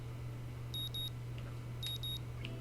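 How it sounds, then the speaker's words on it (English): An alarm clock in the visual novel game Katawa Shoujo beeps in two short bursts, each a quick pair of high electronic tones, over a steady low hum. "The sound of an alarm pulls me out of a fitful slumber and into the unpleasant state of wakefulness."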